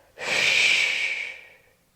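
A single long, breathy exhale during a yoga breathing exercise, close and fairly loud, rising sharply and then fading out over about a second and a half with no speech.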